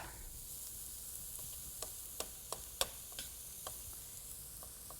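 Food sizzles quietly in a hot pan with a steady soft hiss, broken by scattered small crackles and pops.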